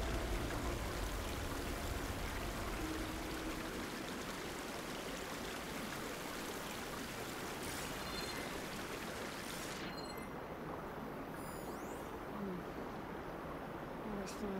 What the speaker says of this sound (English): Water's flowing towards the drain wall.